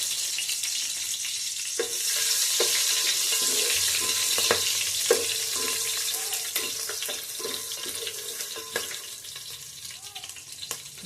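Cumin seeds and slit green chillies fry in hot oil with a continuous crackling sizzle and occasional pops and utensil taps, moderately quiet and without speech.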